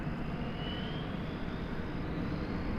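A Boeing 787 Dreamliner rolls up for takeoff at DFW Airport at night, heard as a steady, distant roar of jet engines that holds an even level throughout, with no voices.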